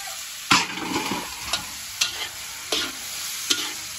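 Wild mushrooms being stirred in a frying pan: several sharp scrapes and knocks at irregular intervals over a soft sizzle, heard up close with no talking.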